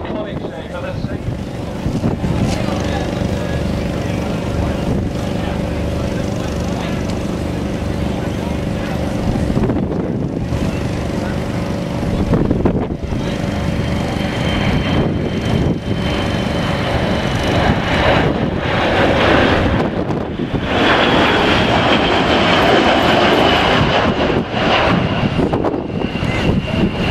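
Sentinel R1 aircraft departing at the 2012 Waddington airshow, a sustained loud jet engine roar with droning tones that shift and fade over time, accompanied by wind noise and intermittent talking.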